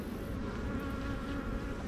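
Honey bees buzz steadily at a backyard hive, a dense, continuous droning swarm close by with no pauses, heard alone without talk.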